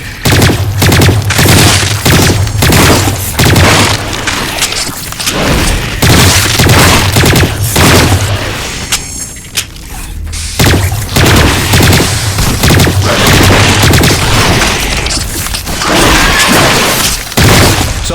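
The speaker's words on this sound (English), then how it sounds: "Some shooting there." Heavy gunfire in the video game Lost Planet 3: loud, rapid bursts of shots over a low rumbling drone, with a short lull partway through before the barrage resumes.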